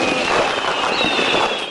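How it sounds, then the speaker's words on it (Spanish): Fireworks bursting over a capital city at New Year's midnight, a dense continuous roar of crackling explosions filling the air with no gaps. "Los relojes marcan la medianoche y la explosión y los destellos se desatan."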